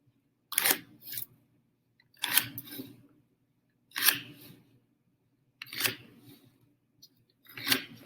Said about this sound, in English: Now I'm drawing my lines pretty hard and pretty dark.